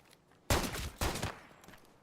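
Two sharp gunshot bursts from Arena Breakout Infinite, loud and close, about half a second apart, each trailing off into a short echoing tail over a quiet background.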